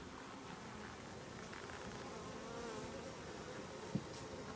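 Honeybees buzz at an open beehive in a dense, steady, close hum that carries on throughout, with one soft tap near the end.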